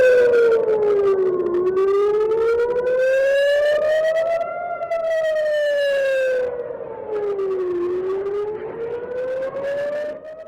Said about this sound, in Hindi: आपको सुनाई दे रहा होगा जो सायरन बजता हुआ नजर आ रहा है